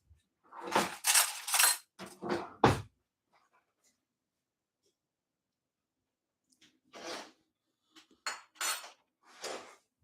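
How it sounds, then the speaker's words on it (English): Metal spoon clinking against other cutlery in a home kitchen while making a salad dressing, a few short bright rattles, a pause, then another cluster of clinks, close and fairly quiet. "Let me grab a spoon."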